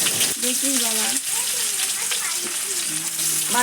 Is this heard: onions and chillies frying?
yes